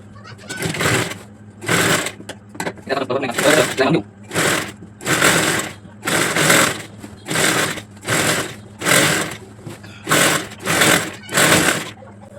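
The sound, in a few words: sewing machine stitching a petticoat waistband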